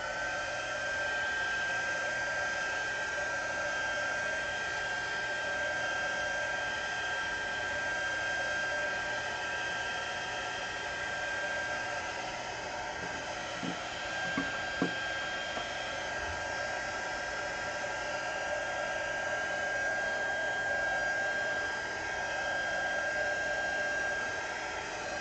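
A hair dryer blows on wet paint in a journal, a steady, close, loud whir with an even whine that holds unbroken for the whole stretch.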